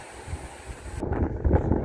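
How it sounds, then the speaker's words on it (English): Strong wind buffets the microphone on an exposed mountainside, a steady low rush that swells into heavier, louder gusts in the second half, with no other sounds. "is now very windy here"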